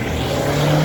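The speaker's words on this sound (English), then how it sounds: "Mustang is leaving, Mustang number 1." A Ford Mustang pulling away on New Year's Day outside the Phoenix Inn, a brief, loud, steady engine drone with a rising low tone.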